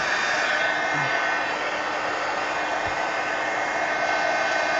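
A heat gun blows hot air to dry a freshly worked art journal page, giving a continuous, loud, even whooshing roar at close range that holds steady without pause or voices.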